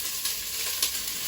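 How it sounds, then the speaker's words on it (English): Diced yellow onion and garlic frying in a pan give a brief, steady, soft sizzling hiss, with a couple of faint crackles and nothing else heard. "we're going to let this cook for 5 minutes until the onion is caramelized"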